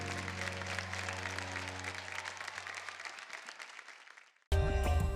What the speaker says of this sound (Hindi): एक बार जोरदार तालियां हो जाए अर्जुन और राजदीप के लिए.